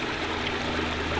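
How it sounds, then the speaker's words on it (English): Spring water running out of the ground at the foot of a bank into a stream, giving a steady, close, full rushing and trickling flow throughout with no voices. "there's water coming out of this down at the bottom here"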